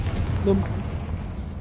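A Confringo blasting spell bursts in a wizard video game, a single deep boom at the start that decays into a low rumble over under two seconds.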